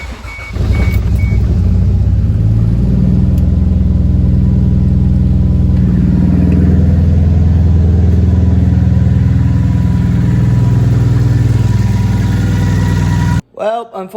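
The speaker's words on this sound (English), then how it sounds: "I'm gonna start up the car and hope that the misfire's gone." Toyota Mk3 Supra engine cranks, catches and runs with a misfire, a loud rough idle with an uneven, stumbling beat close by before cutting off near the end.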